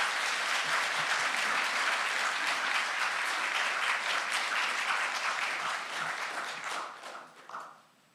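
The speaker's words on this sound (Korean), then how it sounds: "우리 나오실 때 큰 박수로 환영하도록 하겠습니다." A church congregation at a Sunday service claps loudly in sustained applause welcoming a pastor of Compassion Korea to the pulpit, a dense steady wash that thins and dies away near the end.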